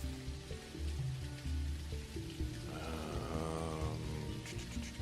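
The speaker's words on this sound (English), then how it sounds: "And it's raining, so of course we ain't gonna get anything done right now." Steady rain patters and hisses in the farming video game Dinkum, a soft continuous downpour with faint in-game music tones underneath and no talking.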